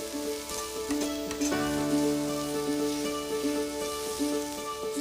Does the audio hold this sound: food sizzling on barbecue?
yes